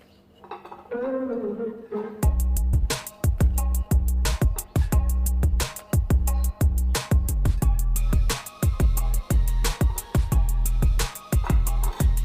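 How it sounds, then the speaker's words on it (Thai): Long beans pounded in a mortar: a steady series of sharp, loud knocks, repeated at an even rhythm over about ten seconds after a brief quiet start, each strike ringing with a clattery, hard contact. "เอาบักทั่วลงไปตำให้เบิดค่ะ"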